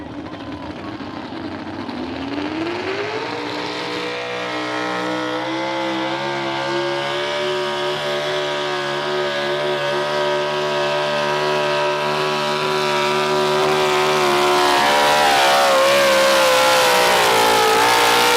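International Harvester 1066 tractor's engine roaring at a pulling event in Rockwell, Iowa, building from a steady loud drone into a sustained, rising full-throttle howl that intensifies near the end.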